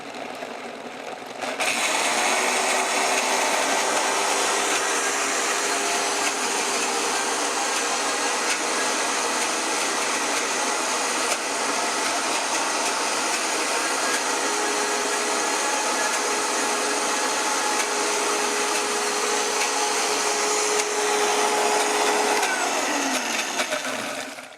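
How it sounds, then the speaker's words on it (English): A blender whirs steadily as it purees pesto sauce, running first on low and then switched up to high, a loud continuous motor whine that fills the space with no talking over it. "put this blender on and let it roll until everything is very well blended"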